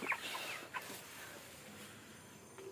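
Chickens clucking in short, irregular bursts outdoors while being weighed on a scale in batches, the calls moderately close over a steady background hiss.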